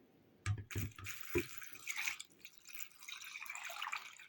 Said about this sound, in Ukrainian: Тепер я його заливаю водою.